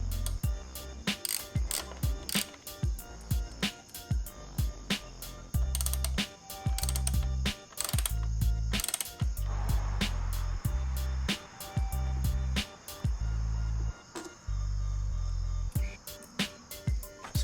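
Hand ratchet clicking in repeated short bursts while removing bolts on a Ducati StreetFighter V4 S motorcycle during an air filter install, sharp close clicks with brief pauses between strokes.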